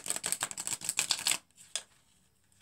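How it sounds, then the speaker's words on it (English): A deck of playing cards being riffle shuffled, a dense run of quick crisp flutters that ends in a short riffle, then a faint tap, close and alone. "Close your ears for those of you who can't stand to see people riffle shuffle."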